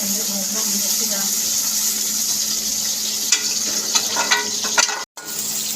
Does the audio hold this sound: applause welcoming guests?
no